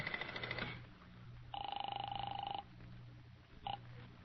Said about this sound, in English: I'll phone the hotel.